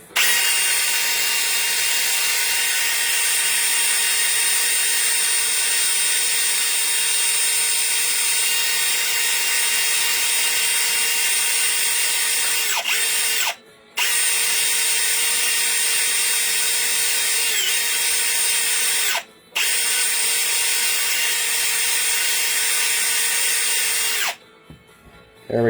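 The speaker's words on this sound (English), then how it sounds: "just take your firm wire wheel and clean it with the wire wheel" A firm wire wheel on a power tool whirs steadily and loudly while cleaning glass, running in long continuous stretches with two brief stops and a final cutoff near the end.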